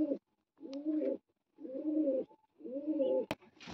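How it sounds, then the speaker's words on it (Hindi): A captive pigeon pair coos nearby in three rolling, evenly spaced phrases, fairly soft, with a sharp click near the end. "तो ये दोनों कबूतर पकड़े हैं, कबूतरी भी पकड़ी और कबूतर भी पकड़ा।"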